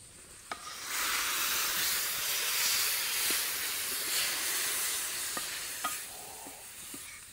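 Onions frying in a pan give a steady, close sizzle and hiss throughout, with a few faint clicks and taps from stirring.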